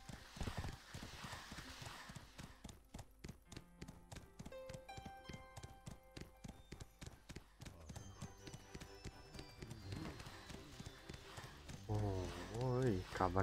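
Horse hooves clop at a steady walking rhythm in the video game Black Desert Online, with regular close thuds through most of the stretch and a voice talking over them.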